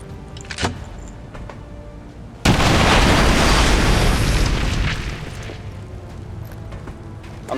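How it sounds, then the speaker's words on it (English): A grenade detonates in XCOM 2: War of the Chosen, a sudden loud boom with a thick rumble that rolls on for a couple of seconds and fades out over quiet game ambience. "we are now launching a grenade with Nicholas, targeting both the purifier as well as the Viper"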